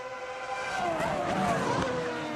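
Formula 1 cars race in the 2008 season, including Robert Kubica's BMW. Engines whine loudly up close and rise to a peak before fading, a high screaming tone over a broad roar.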